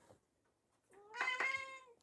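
A single drawn-out cat meow, close and clear with a rising then falling tone, following a short quiet stretch with a faint sound near the start.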